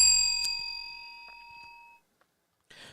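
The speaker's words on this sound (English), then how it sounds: "I'm going to ring the bell for this." A bell is rung once by hand and gives a bright, clear ding that rings on and slowly fades over about two seconds, followed by a short rustle.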